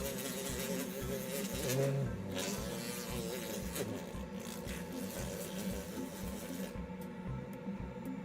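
The acrylic of a Hawley retainer being pumiced on a spinning lathe wheel, a continuous loud whirring grind with rubbing texture that runs steadily throughout.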